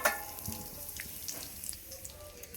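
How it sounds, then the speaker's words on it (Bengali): Whole garam masala spices dropped into hot oil for a chicken curry, giving a steady, fairly soft sizzling hiss after a brief crackle at the start, with faint clinks scattered through it. "দেখো তেলেতে গোটা গরম মশলা দিয়ে দেওয়া হলো"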